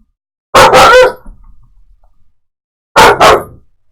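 A dog on board a ship gives two loud, close double barks about two seconds apart, each pair sharp and abrupt, with near silence between them.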